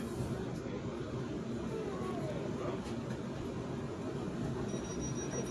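Low, steady rumble of a train running between Totton and Southampton Central, heard from on board as a continuous broadband roar with no clear changes, faint talk mixed in underneath.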